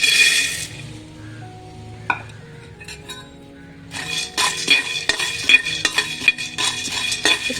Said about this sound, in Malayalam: ഇനി നമുക്ക് നമ്മുടെ കപ്പലണ്ടിയെ ഒന്ന് ചെറുതായിട്ട് ഒന്ന് ചൂടാക്കി എടുക്കാം